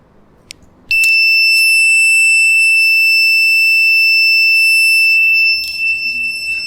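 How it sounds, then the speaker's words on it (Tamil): A loud, steady high-pitched buzzer driven by an Arduino sounds continuously for several seconds, then cuts off, with faint background noise before and after. "இப்போ நம்ம வந்து இந்த பஸ்ஸருக்கான சவுண்ட் எப்படி வருது அப்படிங்கிறத பாருங்கள்."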